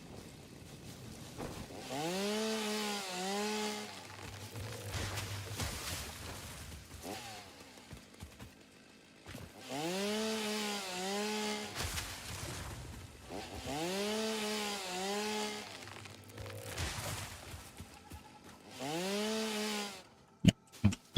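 Biofuel chainsaw biting into a tree in Satisfactory, four long revving cuts with rising and falling engine pitch, separated by short idle pauses, close and clear.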